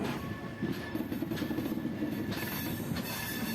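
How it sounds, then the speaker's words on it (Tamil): A train pulls out of Rameswaram railway station, its carriages rumbling loudly and close with rhythmic clickety-clack of wheels over the rails and a faint squeal of metal. "இப்போ வந்து ட்ரெயின் கிளம்பிடுச்சு"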